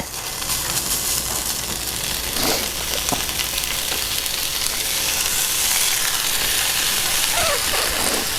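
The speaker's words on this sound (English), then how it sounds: "listen to that sizzle" Steady, dense sizzling of bread frying in a hot pan, loud and close, continuing without pause, with a few faint clinks of a utensil.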